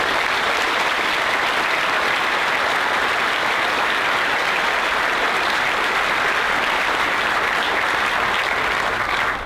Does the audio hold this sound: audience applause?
yes